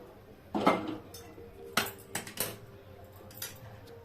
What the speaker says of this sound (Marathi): गॅस पेटवूया आणि कढई ठेवूया